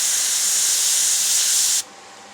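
A can of brown spray paint hisses onto a pheasant taxidermy mount in a close, loud, continuous burst that cuts off abruptly near the end, leaving faint room noise.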